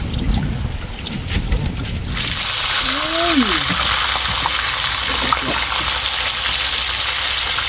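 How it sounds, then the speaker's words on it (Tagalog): Steady broadband sizzle of dalag (snakehead fish) frying in hot oil begins after a brief rumble, with faint crackles and a short chirpy sound partway through. "At bibirayin na ito ni Bags ng prito"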